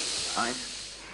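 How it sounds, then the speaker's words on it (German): In the video game The Devil in Me, an asthma inhaler gives one short, soft spray puff, a brief hiss rising out of steady background noise, with faint breathy vocal sound around it. "Ich brauche meinen Inhalator."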